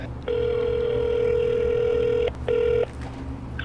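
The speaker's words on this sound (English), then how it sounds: "So I'm gonna call him right now." An outgoing telephone call ringing back through a speaker: one long ring tone, a brief gap, then a shorter second ring, loud and close over a low background hum.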